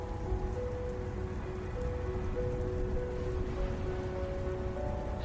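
Steady rain falls on a surface during a rainy drive, a continuous dense patter with faint sustained tones from a car radio mixed low in the background; no voices.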